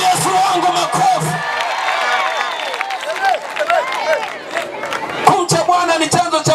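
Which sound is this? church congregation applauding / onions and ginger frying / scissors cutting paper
church congregation applauding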